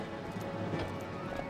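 Hooves of a horse galloping in the video game Zelda: Twilight Princess clip-clop in a quick, steady rhythm for a brief stretch, fairly quiet and close, alone without talk.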